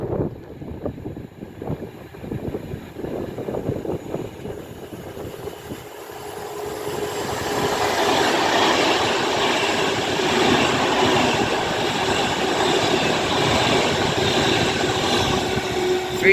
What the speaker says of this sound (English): but it is a Pendolino.